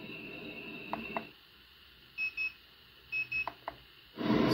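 Alarm clock tone from a Bluetooth speaker lamp, sounding in short repeated beeps: a pair near the start, then two more double bursts and a final longer tone, clear and close with no talking.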